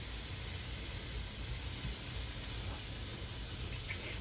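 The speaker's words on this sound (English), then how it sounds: "I'm just gonna go ahead and get this first batch dumped into my air fryer." An air fryer cooks chunks of salted pork belly with a steady, faint hiss and whir, an unbroken fan-like noise with occasional soft sizzles.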